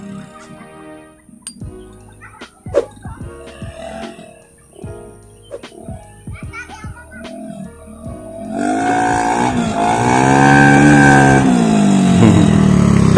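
A CVT scooter-type motorcycle fitted with a Bobokan Hiung aftermarket exhaust built to MP7 regulation revs loudly and close by. Scattered clinks and handling noises come first, then the engine takes over with strong, repeated rising and falling revs.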